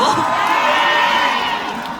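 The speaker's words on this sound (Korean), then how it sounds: "비가 오니까 함성 소리가 더 커진 것 같은데" A large outdoor crowd at a rainy outlet-mall pop concert roars and cheers continuously, a dense steady wash of shouting voices held loud throughout.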